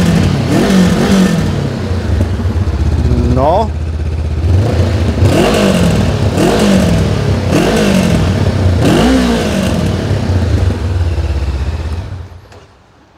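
Honda NX500 and CB500F Hornet 500cc motorcycle engines idling close by, blipped in repeated revs rising and falling, with a brief spoken word before the sound cuts off.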